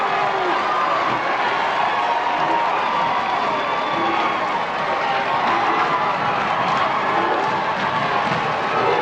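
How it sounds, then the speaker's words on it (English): A college basketball crowd at a 1999 conference championship game roars and cheers after a slam dunk, a loud and continuous wall of shouting and clapping that carries on for several seconds with voices mixed in. "And the Rowan fans now clearly making the noise."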